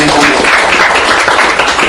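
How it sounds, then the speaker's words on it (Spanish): A church congregation applauds at the close of a sermon, loud dense clapping that fills the space without pause for the short moment. "Denle un buen aplauso al Señor"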